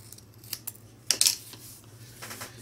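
Scissors snip through card stock during card making: a few light clicks, then one crisp, louder cut near the middle and a last faint snip, close up over a low steady hum.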